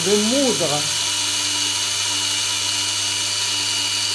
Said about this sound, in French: je suis en train de moudre